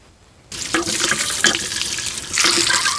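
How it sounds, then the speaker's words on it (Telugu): Tap water runs steadily into a kitchen sink while fresh drumsticks are rinsed clean for pickle-making, a continuous close splashing with a brief quiet start and stronger gushes near the end. "ఇప్పుడు ఈ ములక్కాయల్ని శుభ్రంగా కడుక్కొని"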